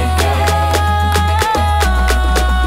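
Upbeat Cameroonian mbole music with a steady, driving beat, repeated percussive hits and a deep bass line, playing loud and continuous with no talking.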